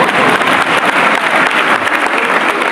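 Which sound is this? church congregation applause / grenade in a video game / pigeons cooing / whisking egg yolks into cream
church congregation applause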